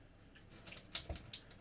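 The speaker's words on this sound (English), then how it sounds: "Let's wash the slurry off and go purely water." Water running over a synthetic sharpening stone, rinsing slurry from its surface, gives a few soft, close splashes and drips at low level with no talk.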